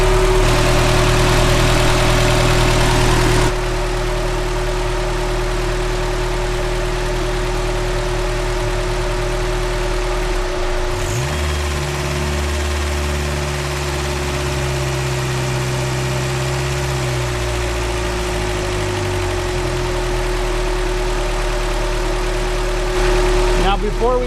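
Toyota 22RE engine, warmed up, idling steadily with a low, constant hum and rumble; the pitch shifts briefly partway through, and the sound is close and loud throughout.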